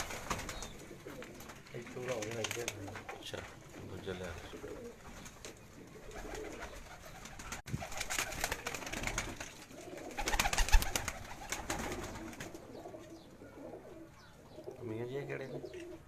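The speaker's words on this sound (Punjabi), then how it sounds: "ਇਹ ਬਾਦਸ਼ਾਹ ਕਬੂਤਰ ਤੁਹਾਨੂੰ ਦਿਖਾ ਰਹੇ ਹਾਂ ਜੀ।" Badshah breed pigeons coo in a low, murmuring way at a home loft in Jalalpur Bhattian, steady and close under a noisy background while people talk over them.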